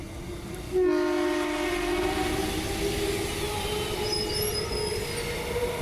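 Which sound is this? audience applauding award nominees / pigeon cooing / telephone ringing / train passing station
train passing station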